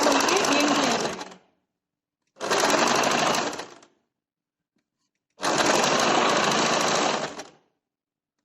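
A sewing machine stitching a blouse in three bursts of fast, whirring, rattling stitches, each a second or two long, with silent pauses between them, loud and close.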